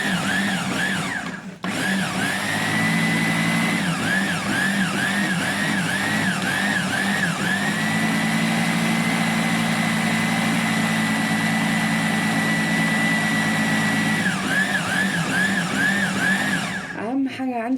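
Egyptian ta'ameya mixture with sesame being ground in a kitchen blender or grinder, a loud steady motor whine running almost continuously with a brief stop near the start and pitch wavering as the load shifts.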